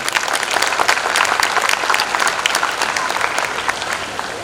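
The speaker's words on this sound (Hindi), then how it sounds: "अपनी तालियों की गड़गड़ाहट से इनका अभिनंदन करें।" A large crowd at a Hindi-language mission school event gives a loud, dense burst of applause that holds steady throughout with no letup.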